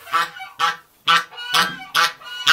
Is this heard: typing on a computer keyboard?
no